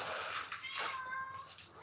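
A cat gives a drawn-out, whiny meow close by, heard over faint room noise, with a little talking mixed in.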